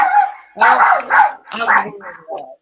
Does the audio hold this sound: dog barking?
yes